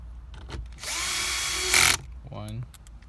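A power screwdriver backs screws out of a dash panel in a 2015–2017 Infiniti Q50, with one whirring burst of about a second that rises in pitch near the end, followed by a brief voice.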